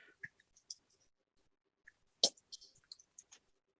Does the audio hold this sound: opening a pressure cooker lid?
no